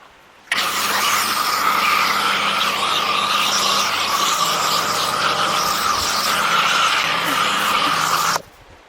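A Stihl pressure washer fitted with a foam cannon adapter sprays water for rinsing, a loud, close, steady roaring hiss that starts abruptly, holds evenly for about eight seconds, then cuts off sharply.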